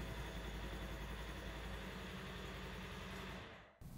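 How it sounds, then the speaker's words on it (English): A Polaris Ranger 1000 off-road vehicle engine runs at a steady, loud idle, a continuous low rumble that drops away abruptly near the end. "start the engine"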